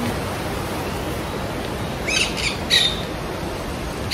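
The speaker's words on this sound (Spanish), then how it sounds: "Se subió a la mesa el perico." A free-roaming pet parakeet up on a breakfast table gives a few short, sharp squawks and chirps at close range over a steady background hiss, with no talking.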